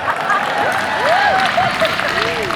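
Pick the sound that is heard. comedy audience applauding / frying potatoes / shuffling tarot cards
comedy audience applauding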